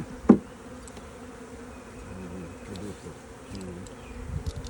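Honey bees buzz around an opened hive in spring, a continuous close hum of many insects with a sharp knock near the start and faint handling sounds of frames.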